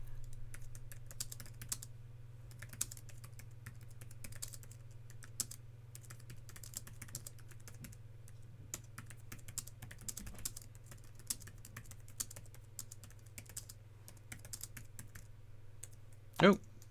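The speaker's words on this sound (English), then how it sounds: "let's give it a quick type. You'll hear how it sounds" A Logitech Slim Folio Pro keyboard case for the 12.9-inch 4th-generation iPad Pro is typed on in a steady run of soft, close key clicks over a low constant hum.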